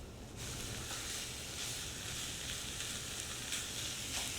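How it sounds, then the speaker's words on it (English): Diced tomatoes and garlic sizzle steadily in a pan for a beef and noodle casserole, a dense, even frying hiss with faint stirring that stays close and continuous, with no talking. "And I'm going to move these around until the garlic releases its flavor."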